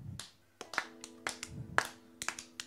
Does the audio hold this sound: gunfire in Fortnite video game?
no